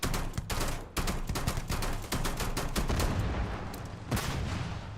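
Rapid pistol fire in Starfield, a fast volley of sharp, loud shots in quick bursts with short gaps, the pistol seemingly double-firing.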